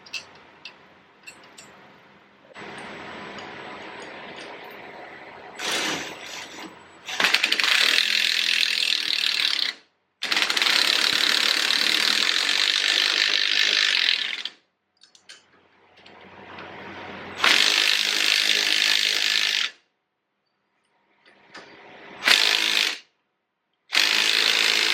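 Ratchet wrench tightening bolts during a Kawasaki Teryx 2-inch lift kit install, with several bursts of rapid clicking separated by short pauses, close and fairly loud with no talking.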